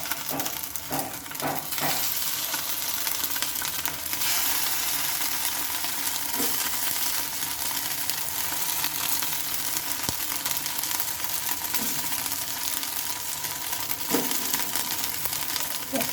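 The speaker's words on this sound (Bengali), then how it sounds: "চলো এগুলোকে আমি হালকা করে একটু ফ্রাই করে নেব" Pieces of dhoka made from raw potato and semolina fry in hot oil in a pan, a steady close sizzle with occasional light clinks of a utensil against the pan.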